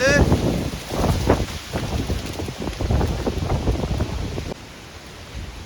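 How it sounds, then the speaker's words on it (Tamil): Strong gusting wind buffets the microphone on a mountain pilgrimage trail at Sivanolipatha (Adam's Peak), a loud continuous roar with rumbling bursts, while people talk over it. "சரியான காத்து அடிக்குது."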